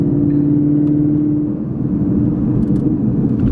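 A supercharged S550 Mustang with long tube headers drives past loud and close, its aggressive engine rumbling with a steady tone that drops into a rougher growl partway through.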